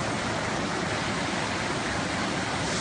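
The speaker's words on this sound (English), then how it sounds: "It's flooded right here, and it's flooded again right at the train bridge." Floodwater rushing across Sycamore Church Road near a small creek, a steady, loud broadband roar of flowing water that continues without pause and with no voices.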